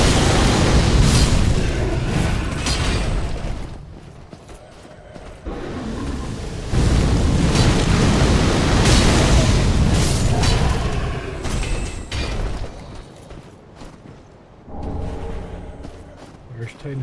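Fire breathers unleash roaring, booming fire blasts in Dark Souls 3, loud surging bursts with brief lulls in a dense, continuous game soundscape.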